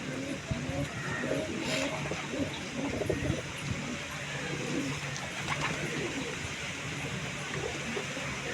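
A pigeon kept as a tumbling breed coos repeatedly in a low, throaty rhythm, fairly close, while someone talks over it throughout.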